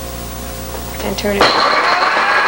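A blender puréeing meat with a little boiled water starts up partway through, a steady loud whir that follows a brief spoken instruction and runs to the end.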